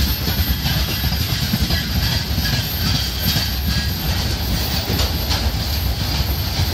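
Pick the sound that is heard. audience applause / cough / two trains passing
two trains passing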